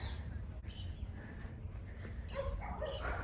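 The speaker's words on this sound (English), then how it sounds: "she was making little barking sounds while I was outside pulling the weeds" A small dog gives a few short, faint yips and little barks outdoors among weeds, over a steady low rumble of background noise, with a voice faintly present.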